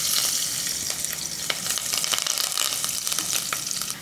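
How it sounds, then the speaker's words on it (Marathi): Garlic, cumin and asafoetida crackle and sizzle steadily in hot oil in a pressure cooker, a dense, loud, close frying hiss with sharp pops throughout. "इथे कुकरमध्ये 3 टेबलस्पून तेल गरम करायला ठेवलं. यामध्ये सगळ्यात आधी जाईल जिरं, लसूण उभा चिरलेला, हिंग."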